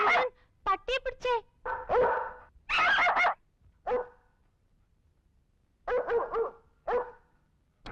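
A dog named Julie barks at night as visitors come to the wrong house: sharp, close barks in short clusters, interleaved with people talking and calling out.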